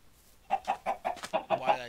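Clucking from a Minecraft chicken, a run of about seven quick, evenly spaced clucks, near and fairly loud, with a faint voice underneath toward the end.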